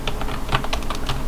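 Typing text on a computer keyboard in a Word document, a rapid, even stream of close, crisp key clicks with no pauses.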